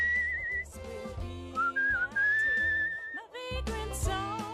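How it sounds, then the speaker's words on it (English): Whistled melody notes from the video game Where The Water Tastes Like Wine, a clear, close whistle gliding between pitches in several short phrases over a game music backing. "hold left control to whistle."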